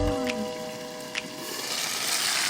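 Pan-fried dumplings (gunmandu) filled with spring greens sizzle in a hot pan, a soft continuous crackling hiss that swells slightly, heard close with no talking.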